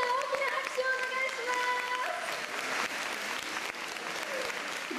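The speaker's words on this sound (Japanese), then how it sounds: "皆さん大きな拍手をお願いします。" Audience applause fills a hall at the results ceremony of a 2010 Korean pop song contest's Tohoku regional round: dense, steady clapping throughout, with faint tonal sounds running underneath.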